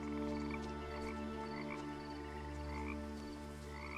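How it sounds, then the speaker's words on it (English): Frogs croak steadily in the What Remains of Edith Finch video game beside lily pads, a dense continuous chorus over a constant tonal ambient drone. "The detail with the frogs."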